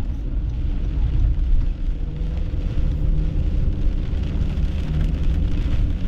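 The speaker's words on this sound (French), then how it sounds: "L'orage est en train de se vider bien comme il faut, là." Heavy thunderstorm rain pours down hard and steadily, a dense, unbroken roar close by that holds loud for the whole stretch.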